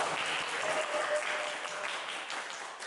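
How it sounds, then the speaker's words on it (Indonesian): An audience at an Indonesian podcast-style talk event applauds, a fairly faint, steady crowd clapping heard from some distance, continuous and without speech. "Tepuk tangan ya."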